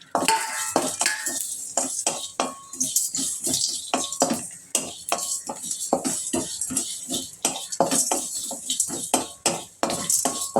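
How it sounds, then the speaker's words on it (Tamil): Fennel seeds and whole masala spices are dry roasted in a metal pan for kurma powder, a busy run of quick scraping and clinking spoon strokes against the pan, close and steady. "சோம்பு இப்போ நான் இந்த மசாலா ஐட்டம் எல்லாமே இதில் போட்டுடுறேன். ஒரு வறுத்து எடுத்துக்கலாம்."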